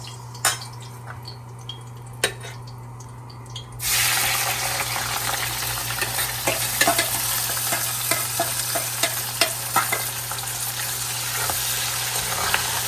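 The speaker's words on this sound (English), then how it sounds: "you put your oil to hot and some curry leaves" Curry leaves dropped into hot oil in a pot for a pumpkin curry, a few faint clicks and taps first, then a sudden loud, steady sizzle and crackle that continues to the end.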